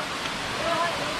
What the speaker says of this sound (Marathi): हा बघा कसा एकदम धबधबा